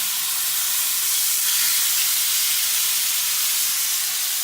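Steak frying in a hot pan just after being flipped gives a loud, continuous, close-up sizzle and hiss that holds steady without pause.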